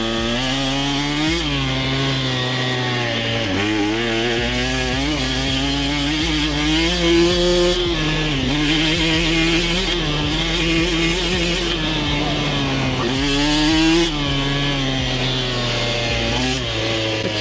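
A KTM motorcycle engine while riding on a sunny day, a loud, high-revving buzz that rises and falls through repeated gear changes and throttle blips over many seconds, close and dominant with no talk.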